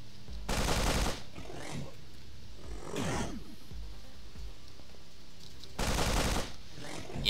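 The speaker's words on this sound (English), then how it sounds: "we're gonna go ahead and just unload with the assault rifle" Assault rifle fire in the video game The Pit rings out in two loud automatic bursts roughly five seconds apart, with quieter game noise and a faint rattle between them.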